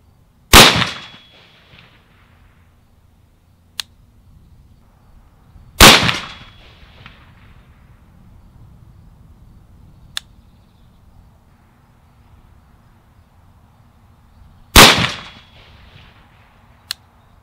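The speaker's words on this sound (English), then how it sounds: "So I'm working on getting the Bushmaster ACR DMR sighted in here" Rifle shots from a Bushmaster ACR DMR being sighted in with 62 grain ammunition at a range, three sharp loud cracks several seconds apart, each with a short decaying echo, plus fainter distant pops in between.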